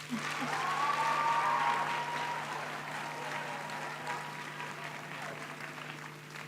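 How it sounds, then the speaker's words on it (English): Applause at a university graduation ceremony, a broad, fairly faint wash of many hands clapping in a large hall, steady throughout with a low hum and faint tonal sounds underneath. "Can you please give them a round of applause?"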